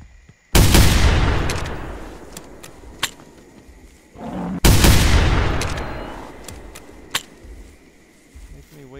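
Two loud rifle shots ring out in theHunter: Primal, each a sharp crack followed by a long echoing rumble that rolls away into the distance, with faint clicks and small sounds between them.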